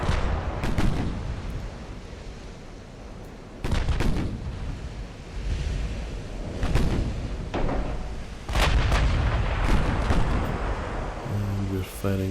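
A battleship's main guns fire at a cruiser during a naval battle in the game Ultimate Admiral: Dreadnoughts, with several heavy booms spaced a few seconds apart over a continuous rumbling background.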